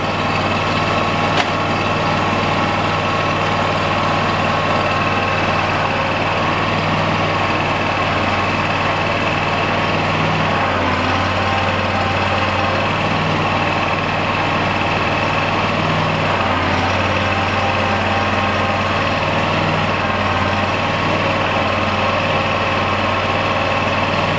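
A Gravely Pro-Stance mower engine idling with no load, a loud, steady drone with a constant low hum and vibration throughout, no talk.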